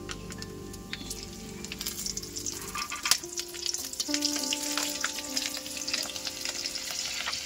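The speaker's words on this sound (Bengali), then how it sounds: "এবার ওই তেলে আমি একটু কালো জিরে ফোড়ন দেব। কালো জিরে আর কয়েকটা ফাটানো কাঁচা লঙ্কা।" Nigella seeds and slit green chilies sizzle steadily in hot oil left from frying pabda fish, a dense continuous crackle that rises in intensity partway through and keeps popping with sharp spits and ticks.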